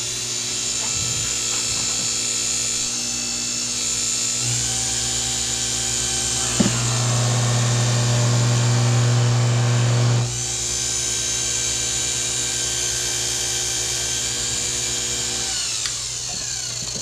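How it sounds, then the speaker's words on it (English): A fret buffer polishes the rusted, oxidized frets of a 1968 Fender Precision Bass, a steady close motorized whine that rises into a louder, heavier grind for a few seconds mid-run before settling back, with no talk. "run it through the fret buffer just to give them a shine them up again"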